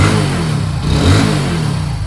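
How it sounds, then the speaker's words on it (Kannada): A new vehicle's engine revs up close: a loud, steady rumbling drone that swells once mid-way and then settles, heard on its own without voices. "ಸೌಂಡ್ ಕೇಳಿ ಗೊತ್ತಾಯ್ತು ಹೊಸ ಗಾಡಿ"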